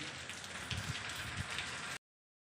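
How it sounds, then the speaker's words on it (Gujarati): Steady rain patters on a surface, a dense continuous hiss with a few heavier drops, ending abruptly after two seconds. "3 દિવસથી વરસાદ આલે છે અને જોવો તમને વરસાદ બતાવું પહેલાં"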